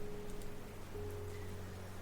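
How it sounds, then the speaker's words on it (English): Steady rain falls in the video game The Red Strings Club, a soft, even hiss with a faint low hum underneath, quiet and continuous with no voices. "You will listen to the rain and you will like it."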